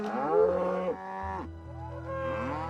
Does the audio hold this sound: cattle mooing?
yes